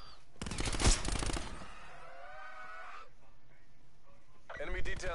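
Gunfire in the video game Call of Duty Black Ops 4, with a loud rapid burst of automatic fire early, then quieter game sounds and tonal effects, and another short burst near the end.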